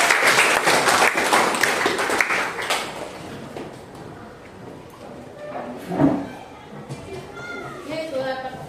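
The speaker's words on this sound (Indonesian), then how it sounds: "tepuk tangan dulu" Applause in a classroom session for a teacher training program in Gorontalo, a burst of clapping at the start that fades out under ongoing talk and children's voices.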